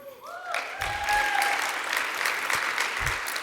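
Applause from the audience at a university costume design panel swells after a brief voice and holds as a full, even clatter of many hands, with a few louder claps standing out.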